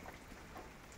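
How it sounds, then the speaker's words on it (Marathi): Rain falls on a farm field by a sugarcane crop, a soft steady patter spread evenly across a brief moment, faint and alone with no voices. "झाला पाऊस."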